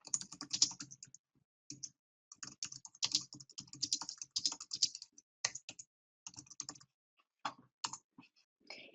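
Typing a comment on a computer keyboard, quiet close clicks in irregular bursts with short pauses, no voices.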